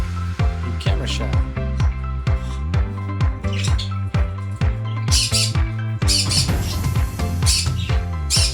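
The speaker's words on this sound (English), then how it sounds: "And Miko is a parrotlet." Pet parrotlet giving a run of repeated harsh squawks in quick rhythmic bursts, close and loud, some calls overlapping a voice speaking nearby.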